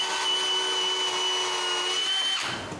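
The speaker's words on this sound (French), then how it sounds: "on visse d'autres petites vis pour tout retenir" A power drill drives small screws into a door hinge, a steady close whine holding for over two seconds before spinning down, with no talk.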